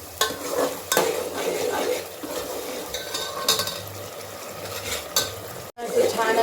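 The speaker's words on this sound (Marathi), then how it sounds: "वाटण मस्त तेलामध्ये छान परतून घेतलं ना तर खोबरं लसूणचा वास येत नाही" A ground coconut-garlic masala paste sautéed in oil for mutton paya soup gives a close, steady sizzle punctuated by repeated sharp spatula scrapes and clinks against the pan, with a brief break near the end.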